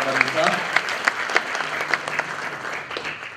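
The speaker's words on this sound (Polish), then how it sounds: "Brawa dla Mariusza." Applause for a cycling coach at a Dzierżoniów sports awards ceremony: a crowd clapping steadily with sharp individual claps, while a voice speaks over it and faint music sits underneath.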